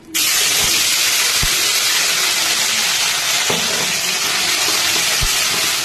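Spice paste hitting hot oil with dried red chilli and cumin for tel koi, bursting into a loud, sustained hiss of frying that fills the clip, with a few faint knocks underneath and no voices.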